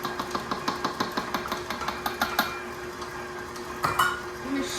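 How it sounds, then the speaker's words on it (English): A stand mixer with a dough hook kneading French bread dough, its motor humming steadily while the hook thumps and clanks against the bowl in a regular rhythm, then stopping and giving a final clatter. "I'm using my mixer because why not? All right, get this going again."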